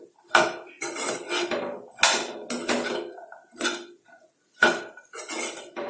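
A spatula clanks and scrapes against a pan while okra is tossed into masala, a series of loud metallic knocks and scrapes in uneven bursts with short pauses between.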